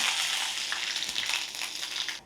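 Mustard seeds, cumin and curry leaves frying in hot ghee give a steady, close crackling sizzle with small pops, then cut off sharply at the end.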